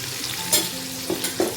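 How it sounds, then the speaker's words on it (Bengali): Pieces of katla fish fry in hot oil with a constant crackling sizzle, close and clear, punctuated by a few sharp spatters and spoon clinks as they are turned. "অনেকগুলোই আছে, সব ভেজে ভেজে তুলতে হবে।"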